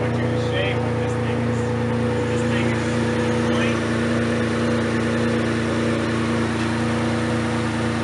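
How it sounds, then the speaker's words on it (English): A modified C4 Corvette engine running close by, a steady low rumble with a strong droning hum that holds evenly throughout, with someone talking over it. "Because that Corvette's not loud enough yet."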